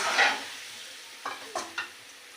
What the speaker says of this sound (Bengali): এই যে তেলের মধ্যে কষে নেব এই যে আমগুলো